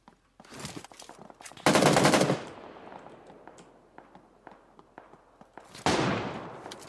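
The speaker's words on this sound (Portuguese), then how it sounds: "Não dá pra saber se o tiro tá vindo de cima ou de baixo" Bursts of automatic gunfire from the video game PUBG Lite, with a loud sustained volley, scattered single shots, and a second heavy burst near the end, with no speech over it.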